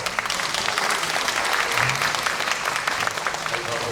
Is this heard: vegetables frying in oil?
no